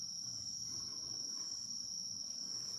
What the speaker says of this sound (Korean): 풀벌레 소리, 귀뚜라미도 있겠지만 여러 풀벌레 소리가 들립니다